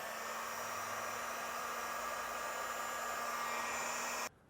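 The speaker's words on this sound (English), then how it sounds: "I'm going to come back with a heat gun and seal up the ends." A heat gun blows steadily while shrinking heat shrink connectors on trailer brake controller wiring in a 2023 Jeep, a close, even airy roar that cuts off abruptly at the end.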